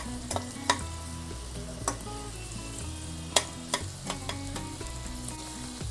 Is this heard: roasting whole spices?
yes